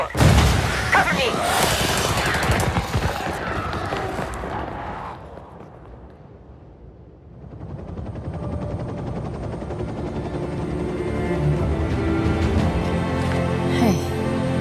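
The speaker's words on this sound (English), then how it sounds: "Nomad, blow the door!" An explosive breaching charge blows a door open in a Ubisoft shooter game amid gunfire, followed by a sudden drop to near silence and then a swelling rumble as action and voices return.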